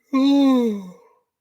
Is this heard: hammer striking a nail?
no